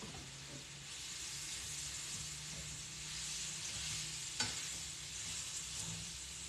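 Chicken rice frying in a pan, a soft steady hiss and sizzle with a single sharp clink of a utensil partway through, close but faint, no one speaking.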